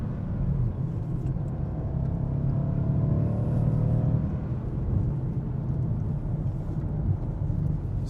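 Mercedes C63s engine braking through downshifts, a deep continuous rumble heard from inside the car, with the engine note rising and falling steadily as gears drop.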